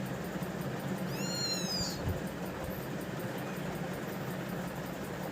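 A lost kitten cries out for its mother cat with a short run of high, rising mews near the start, heard over a steady low engine-like hum, then the rest stays quiet apart from that background drone.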